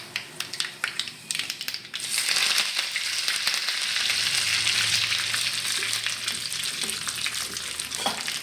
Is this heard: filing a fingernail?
no